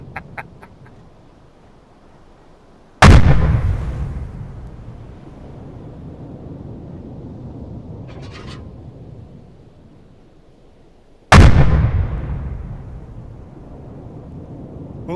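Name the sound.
U-boat deck gun firing in the video game UBoat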